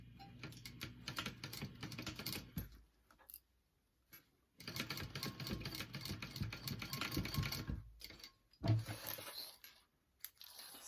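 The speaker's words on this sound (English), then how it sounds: "you want to top stitch that on" A sewing machine top stitches a clutch wallet, a rapid close mechanical ticking in several bursts of a few seconds each, broken by short pauses, with no talking.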